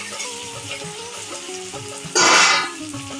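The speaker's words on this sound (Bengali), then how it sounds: "টমেটোটা দিয়ে ভালো করে নাড়িয়ে চাড়িয়ে নেব।" Tomato hits hot oil in a pan and is stirred, a sudden loud sizzle lasting under a second that rises over steady background music and then fades.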